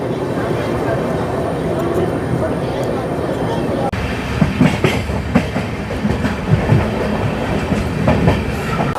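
The Amrit Bharat Express from Sealdah to Varanasi rolls through Barddhaman junction past platform 1 at night, a loud rumbling run with rhythmic clickety-clack of wheels over rail joints and a jolt of heavier clatter midway.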